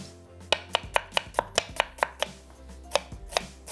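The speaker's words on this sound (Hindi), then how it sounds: "इसको खूब अच्छी तरीके से बारीक आपने काट लेनी है" An onion is finely chopped with a knife on a board, about a dozen crisp, evenly spaced chops landing close and loud, with no talking.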